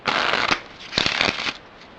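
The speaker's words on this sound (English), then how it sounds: "These cards are very good for riffle shuffling." Two quick bursts of Streamline playing cards riffle shuffling, each a dense fluttering rush lasting about half a second, close and fairly loud.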